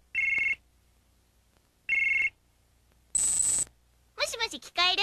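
Telephone ringing from a 1994 Sailor Moon S phone quiz toy, two short electronic ring bursts spaced well apart, then a higher beep, followed by a voice speaking.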